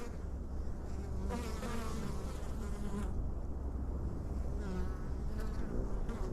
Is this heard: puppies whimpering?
no